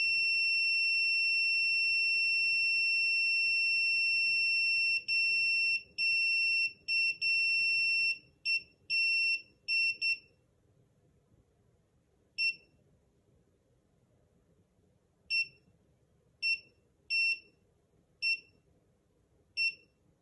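Electronic beeping from a SARCTRAC Mk2 3D sensor during factory calibration: a loud, clear steady tone for several seconds, then a run of short irregular beeps with pauses, heard alone.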